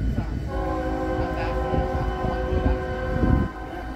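A CSX freight train horn sounds a sustained chord-like blast over the low rumble of the passing train, fairly close and steady for several seconds.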